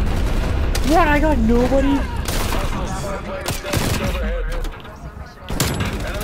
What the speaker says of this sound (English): It's technically like a rapid fire shotgun.